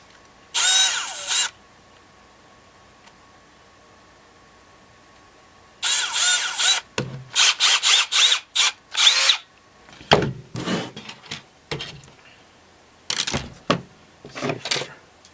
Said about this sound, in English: we'll need this to drill into the head